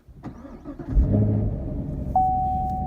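A 2016 Chevrolet Camaro SS V8 with manual transmission cranks and fires up, catching with a rumbling roar that settles into a loud, steady idle close by.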